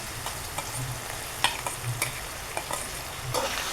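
Ginger paste, garlic paste and crushed green chilies lightly frying in oil, a soft steady sizzle with a few sharp spatula scrapes and stirring knocks, close and fairly quiet, no voices.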